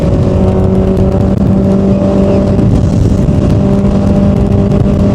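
Honda CB650R motorcycle engine while riding after heavy rain, a loud steady drone with sustained engine tones and constant road and wind noise, close to the microphone, no talk.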